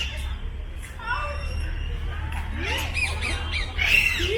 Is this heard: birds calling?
yes